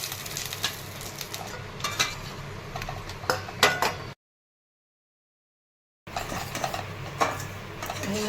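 Mango sheera being sautéed in a pan with charoli, a spatula scraping and clinking against the metal over a gentle sizzle, close, in two stretches separated by a brief total silence.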